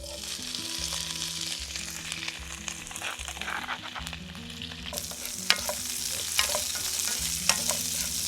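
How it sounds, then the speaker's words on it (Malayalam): Ginger, garlic and green chili sizzle steadily in hot oil with mustard seeds and curry leaves for mango pickle, while a spoon stirs the pan in repeated scraping strokes and a few sharp crackles pop near the end. "ഇഞ്ചിയും വെളുത്തുള്ളിയും പച്ചമുളകും കൂടി ഇനി ഇതിലേക്ക് ഇടാം"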